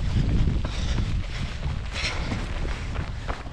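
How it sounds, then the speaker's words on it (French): Wind and rain during a long-distance trail run in the hills of northern France, heard as steady rushing wind buffeting the microphone with broadband noise and low rumbling gusts throughout, close and continuous. "Il pleut, il y a du vent, c'est froid."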